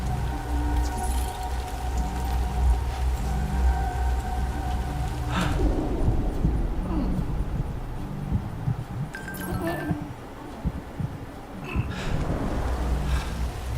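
Timefall rain pours in the Death Stranding 2 video game, a steady hiss of falling rain with low rumbling underneath, game music tones and occasional splashes and thuds.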